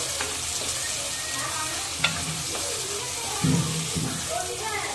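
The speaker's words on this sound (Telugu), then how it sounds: "ఆనియన్స్ అంతా వేసేసి బాగా ఒక 5 minutes సాటే చేసుకోండి" Onions sauté in a pan for a fish curry, a soft continuous sizzle with occasional stirring scrapes and clinks, close by, with faint voices in the background.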